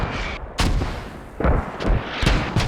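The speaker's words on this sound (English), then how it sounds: "Those some good mortars." Mortar rounds fire in a competitive video game match, several heavy booming thumps spaced irregularly across a couple of seconds, loud and close with no talk over them.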